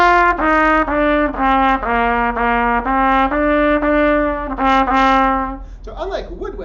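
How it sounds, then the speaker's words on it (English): Trumpet playing a slow melodic line of sustained, bright brass notes, loud and close, held tones stepping between pitches, ending in a brief noisy tail after the last note. "So this is what a trumpet sounds like."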